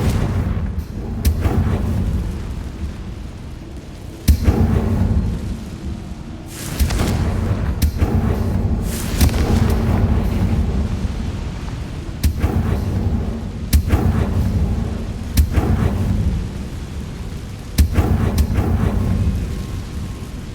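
In the Hogwarts Legacy video game, repeated Confringo fire spell blasts land as deep, loud rumbling booms at irregular intervals, each with a sharp onset, over a continuous low roar.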